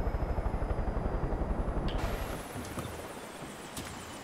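Helicopter in the video game Far Cry 5, a steady pulsing rotor drone with regular beats for the first two seconds, then a softer, muffled rumble with faint scattered noise.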